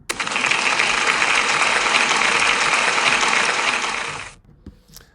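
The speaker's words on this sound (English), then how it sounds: "Can we give Chloe a big round of applause" A school celebration assembly breaks into sustained applause, a dense, even wash of clapping from a large crowd lasting about four seconds before cutting off abruptly, with no speech.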